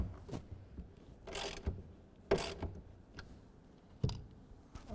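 A 1/2 inch ratchet tightens a clamp bolt on a Gator EFX hard folding tonneau cover for a 2024 Toyota Tacoma, giving a few separate close clicking bursts with quiet gaps between them, and no talk.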